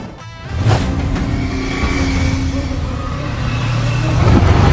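A car engine starts up and pulls away, its steady motor noise building and staying loud close by, with faint voices mixed in underneath.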